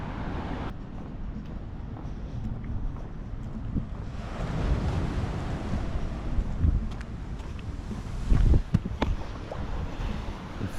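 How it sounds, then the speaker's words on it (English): Waves fizz and wash on the shore at Kirkcaldy, a continuous rushing surf roar heavily buffeted by wind noise, with a louder surge near the end. "The fizz of the water."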